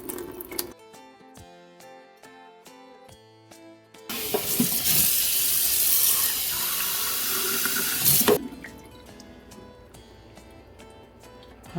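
Water poured out of a glass of settled tomato seed mixture, a steady loud rushing splash lasting about four seconds, with softer clinking and handling noises before and after.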